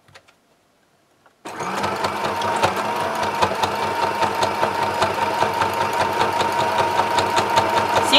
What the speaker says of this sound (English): I'm going to wind the bobbin